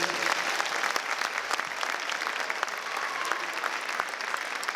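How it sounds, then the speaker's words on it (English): Banquet audience at a high school fall sports banquet applauding the assistant coaches, a continuous, even round of many hands clapping at moderate volume with no talk over it. "A nice round of applause, please."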